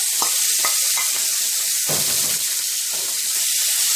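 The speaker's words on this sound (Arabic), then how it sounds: "هدي كده للقوانص تشويحه مع السمنه" Chicken gizzards sautéing in ghee in a hot pan, a steady loud sizzle with intermittent scraping stirs, up close and alone.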